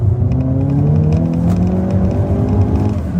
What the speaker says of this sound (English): The exhaust is so good. You can hear the turbo spool up.